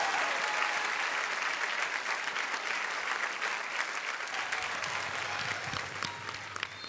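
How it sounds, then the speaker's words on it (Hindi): Sustained, dense audience applause fills a TV dance show studio, loud and steady throughout with only slight swells, a broad wash of many hands clapping together with no speech over it. "तो एक बार जोरदार तालियां हमारी कैप्टन सोनाली और प्रियांशी के लिए।"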